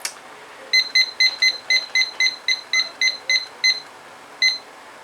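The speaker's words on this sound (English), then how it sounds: "So we put the timer on for 12 minutes." A kitchen timer being set for 12 minutes, giving a rapid run of about a dozen short, clear, high-pitched beeps at an even rhythm, then a pause and one final beep.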